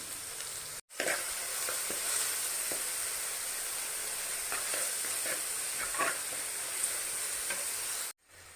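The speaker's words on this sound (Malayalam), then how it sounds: "കടുക് പൊട്ടിയ ശേഷം സവാള ചേർത്ത് ചതച്ച സവാള ചേർത്ത് വഴറ്റിയെടുക്കാം." Sliced onions sauté in hot oil after mustard seeds have popped, a steady close sizzle with occasional crackles and spoon stirs, no voices, for a Kerala kappa and fish curry.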